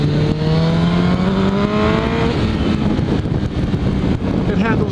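A Kawasaki Ninja ZX14R motorcycle roars steadily up an off-ramp at speed, its engine note climbing through the revs under heavy wind rush, loud and continuous, heard from the rider's position.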